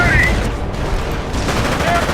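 Dense gunfire and mortar blasts fill a Normandy battle in Company of Heroes. It is a loud, continuous fusillade of overlapping shots and booms, with a voice partly audible beneath it.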